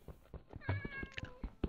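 A cat in the Minecraft video game meows once with a clear rising-falling cry, surrounded by short clicks and thumps from gameplay.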